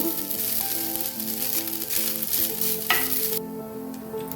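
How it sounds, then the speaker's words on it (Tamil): Grated coconut sautéed in a pan, a continuous close sizzle with scraping stirs, then the frying noise drops away sharply near the end. "அதனால் தேங்காவை நல்லா வதக்கணும்"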